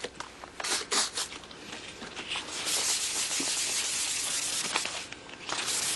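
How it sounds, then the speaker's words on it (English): A flap is sanded by hand with sandpaper using light pressure, a steady raspy rubbing that comes in quick strokes and then settles into a continuous scratchy hiss, close to the listener with no talk. "You can't press the sandpaper very hard"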